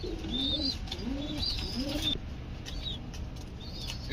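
Racer pigeons cooing in repeated low throaty phrases with soft wing flaps and faint higher chirps, close and continuous over steady background noise, no talking.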